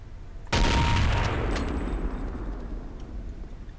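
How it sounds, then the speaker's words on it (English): Weapon fire from Counter-Strike: Condition Zero: one sharp, loud report bursts in and leaves a long ringing decay that fades slowly, with a faint ticking trace later on and no talk. "Look at the fire sound, even like it's interrupted because I switched weapons"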